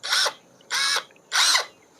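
An OSUKA OSAD-2X cordless brushless drill spins freely in three short, evenly spaced bursts. Each bright whirring burst lasts about a quarter second and cuts off cleanly into near silence.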